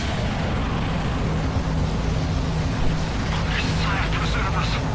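Heavy rumbling cannon blast from a volcano cannon in Warhammer 40,000 Space Marine, a dense sustained roar of low booming energy and mechanical noise lasting several seconds, with a voice talking over it.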